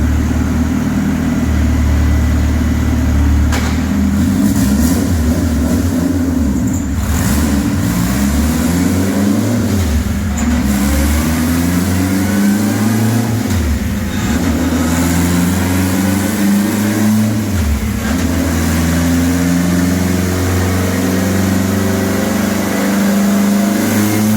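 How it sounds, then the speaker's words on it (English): A built Honda Civic with a K24 four-cylinder runs on a dyno, its exhaust loud and deep, rising and falling through several rev sweeps over a steady low drone, with no voices. "the sound of this exhaust is just so throaty and so deep"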